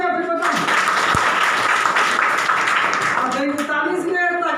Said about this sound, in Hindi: एक बार ताली हो जाए फिर बताऊं।